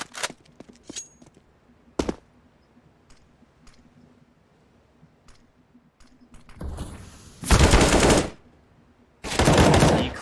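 Gunfire exchange in Counter-Strike during an ESEA Premier match: scattered single shots and clicks early, then two long, loud bursts of sustained automatic fire near the end, with no talk over them.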